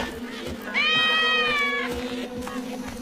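A cat lets out one loud, drawn-out meow close by, rising then fading over about a second amid a faint steady background hum.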